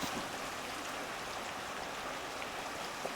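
Steady broadband rush of Oil Creek flowing through Oil Creek State Park in Pennsylvania, a continuous, even wash of moving water with no speech over it.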